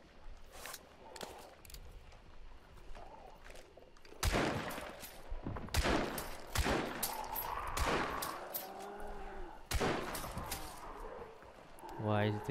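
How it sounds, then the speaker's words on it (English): Gunfire in the video game Hunt: Showdown, scattered sharp shots and bursts, some distant and some close and loud, under occasional talk and game noise. "Why is this guy shooting?"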